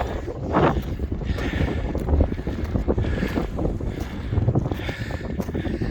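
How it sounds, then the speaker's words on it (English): Gusty wind on Litli-Hrútur mountain, beside an erupting volcano in Iceland, buffets the microphone in rough, uneven surges, a steady outdoor roar with no voices. "still there is wind"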